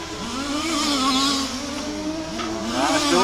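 STC race car on the Warm Springs Raceway track, its engine droning and rising in pitch as it passes, steady and fairly loud with a brief dip midway, no voices over it.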